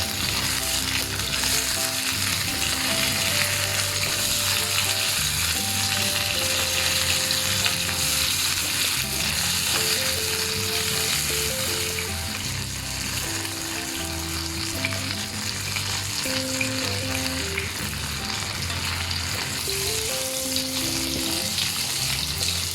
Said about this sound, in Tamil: 2 மினிட்ஸ் கழித்து டர்ன் பண்ணி போட்டு மறுபடியும் ஒரு 2 மினிட்ஸ் குக் பண்ணோன்னா நம்மளோட ஃபிஷ் ஃப்ரை ரெடி ஆயிரும்.